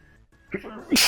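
A single sharp sneeze, a quick intake building into a loud burst at the end, close by.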